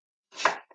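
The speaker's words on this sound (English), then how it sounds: "Doing all the chopping on camera" A knife strikes a cutting board in one crisp, close chop while food is cut on camera, followed by a faint small tap, with no talking.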